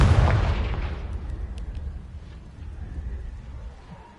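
A Confringo fire spell goes off in Hogwarts Legacy with a loud booming blast up front, then a long rumbling decay as debris crackles and fades away.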